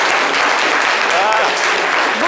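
Audience applause fills the room, dense and steady throughout, with an excited voice or two calling out over the clapping at a French-language children's literature show.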